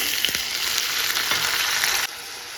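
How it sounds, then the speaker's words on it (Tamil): Shallots and curry leaves sauté in a pan for a jackfruit seed curry, giving a loud, steady, close-up sizzle that runs without pause and drops slightly in level near the end. "நல்லா வெங்காயம் வந்து வதங்கட்டும்"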